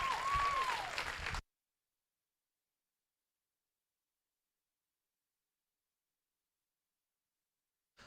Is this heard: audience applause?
yes